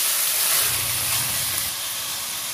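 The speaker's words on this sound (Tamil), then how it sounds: "இது எல்லாத்தையும் கிளறி கொடுங்க." Onions, garlic, tomatoes and curry leaves fry in a pan for a bottle gourd kuzhambu, giving a steady, fairly loud hissing sizzle that eases off slightly toward the end.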